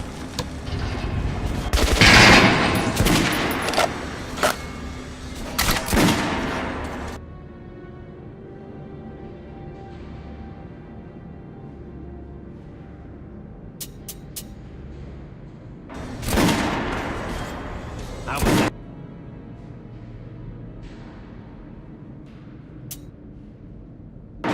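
Loud bursts of gunfire at a shooting range in Metro Last Light Redux, with two clusters of rapid shots separated by a quieter stretch of low ambient hum and a few isolated sharp cracks.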